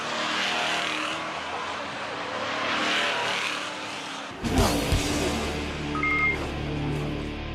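NASCAR Euro Series Elite race cars roar past on track, a loud engine drone broken by a sudden sharp burst as the pack closes in, with a commentator voice faintly present.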